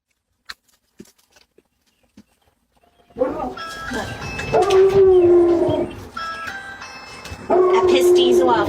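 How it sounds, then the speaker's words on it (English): Dogs bark, whine and howl loudly nearby, muffled as if behind walls, starting suddenly after a quiet stretch of faint clicks. "this woman is audibly startled by dogs barking from inside the house"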